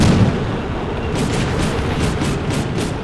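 Gunfire in the war game Combat Mission Black Sea: a heavy boom opens, then a regular series of muffled shots about every half second, loud under a dense rumbling background.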